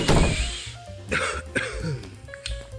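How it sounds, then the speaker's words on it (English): A single harsh cough bursts out near the mic, followed by a few rougher throat-clearing hacks and a short breathy catch, with no talking. "He inhales deeply and coughs."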